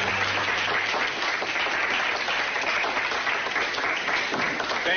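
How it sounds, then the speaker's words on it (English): A round of applause for an engagement, steady and even clapping from a gathered group that carries on unbroken for the whole clip. "I'd like you all to join me in a nice round of applause for the engagement"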